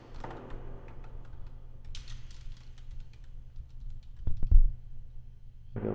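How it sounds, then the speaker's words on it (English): Keys clatter on a computer keyboard as a paragraph is typed into a WordPress editor, a steady run of light close clicks with a brief louder burst near the end, no voices. "So I can type another paragraph here."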